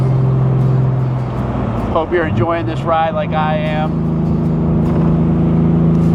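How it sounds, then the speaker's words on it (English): A 1966 Mercedes-Benz 230 SL Pagoda, restored, cruising in fourth gear on back roads, its steady engine and road drone continuous and close throughout, with someone talking over it in the middle. "Here we are just loafing along in 4th gear on some back roads."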